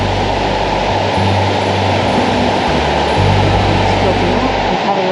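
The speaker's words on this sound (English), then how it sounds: "Sound of water even from up here." Dense, steady roar of rushing water from the Bad Gastein waterfall through the centre of town in Austria, broad and constant, with a low rumble underneath.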